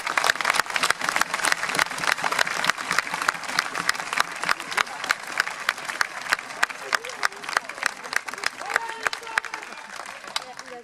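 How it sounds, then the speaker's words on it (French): Theatre audience in Arles clapping in rhythmic unison, a long run of sharp, evenly spaced claps with crowd murmur and voices underneath, the beat holding steady throughout. "Vous pouvez applaudir"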